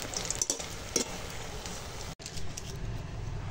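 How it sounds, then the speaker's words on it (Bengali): Khesari dal bori frying in hot oil, a steady close sizzle with a few sharp clicks and a brief dropout midway. "এখন বড়ি ভেজে নেব। এগুলো হচ্ছে খেসার ডালের বড়ি।"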